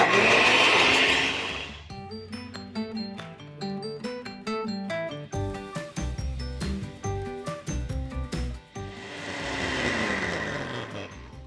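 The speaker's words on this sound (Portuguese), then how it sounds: "Eu nem sei direito mexer nesse liquidificador aqui ainda" A blender mixing cornmeal cake batter whirs loudly for about two seconds, then music plays, and the blender runs again near the end.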